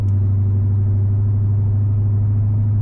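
A Cadillac CTS-V runs with its exhaust cutouts open, bypassing the mufflers, giving a loud, deep, steady rumble close by with no talking.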